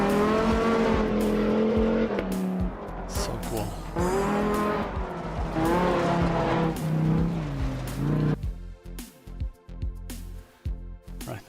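A rally car in Really Amazing Cars Rally, with a loud engine revving and rising through gears under excited talk, then a rougher, choppy burble near the end.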